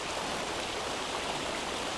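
A river swollen and muddy after rain flows past the bank with a steady, dense rushing wash, moderately close and unbroken, with no voices over it.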